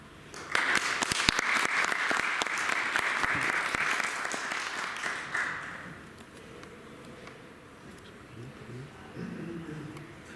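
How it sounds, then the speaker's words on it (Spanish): An audience applauds after a lecture on differential topology. The clapping is brisk and sustained for about five seconds, then fades into quiet murmuring and a voice speaking. "le damos un aplauso"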